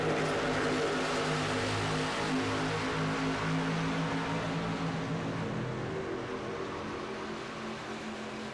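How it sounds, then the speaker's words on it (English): A race truck's engine idles at the track with a steady, droning hum and low harmonic rumble, heard from a distance at an even level throughout. "Truck's idling, so he must be."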